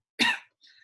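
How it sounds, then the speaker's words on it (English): A single sharp cough, close and loud, followed by a fainter raspy tail. "I'm still coughing a lot."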